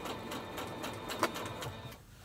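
A sewing machine top stitches along the edge of a pleated, boat-shaped fabric mask made from one piece of cloth, running in a steady rapid chatter of short bursts for about two seconds before stopping, fairly quiet and alone.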